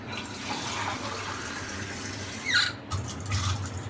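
Water pours into a cooking pot for white pulao rice, a quiet, continuous splashing trickle near the microphone with a brief stronger gush toward the end.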